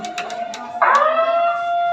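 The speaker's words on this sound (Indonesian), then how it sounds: "Kalau bunyi sirine seperti ini" An electronic school siren tone during an earthquake and tsunami drill rises and holds steady after a few short beeps, loud and close, with a wavering alarm-like pitch.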